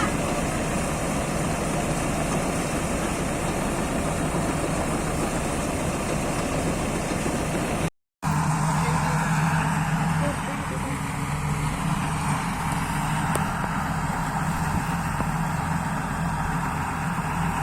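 A tractor engine runs steadily beside a paddy threshing machine in a village rice field, a loud continuous low drone that carries on unbroken for the whole stretch apart from one brief cut partway through.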